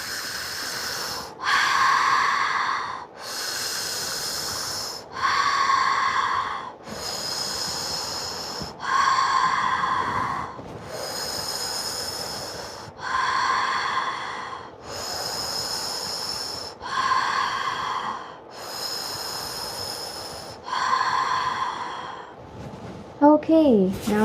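Deep, slow breaths during a fascial maneuver exercise come in a regular rhythm, about eleven loud, close inhale-exhale cycles, each a breathy rush lasting a second or two, with brief pauses between them.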